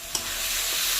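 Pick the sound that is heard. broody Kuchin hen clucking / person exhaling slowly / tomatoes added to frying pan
tomatoes added to frying pan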